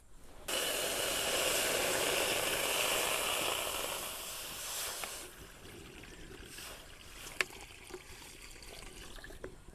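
Water poured into a container as the first step of a homemade vinegar batch, a steady broad hissing stream for about four seconds that then stops, followed by quieter handling noises and a small clink.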